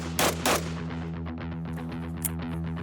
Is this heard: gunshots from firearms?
yes